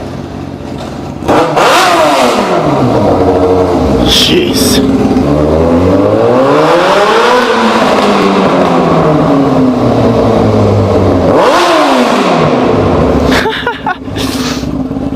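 A motorcycle with a loud straight-pipe exhaust, inside a mostly enclosed concrete space, revs hard and very close. Its pitch sweeps up and down in repeated swells over a continuous roar, and a voice briefly exclaims near the end.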